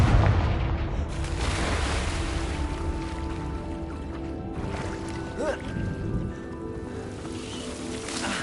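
A fiery Confringo spell blast from Hogwarts Legacy, heard as a loud, continuous rumbling roar with crackle that slowly fades while low tones hum beneath.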